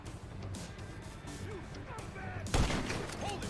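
A single sharp sniper rifle shot in the GTA 5 video game cracks out loudly after a stretch of quieter game ambience and someone speaking.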